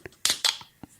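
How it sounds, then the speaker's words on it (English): A beer can being opened: a faint click, then two sharp hissing pops of the tab and escaping gas, close and brief, followed by a few small clinks, with no talk. "It's opening up a can. Yes, It is. A can of beer."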